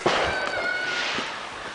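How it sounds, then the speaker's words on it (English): A Stella Team Rocket firework goes off nearby with a loud crackling burst and hissing whistle, a dense broadband roar lasting under two seconds. "The Stella Firework Show."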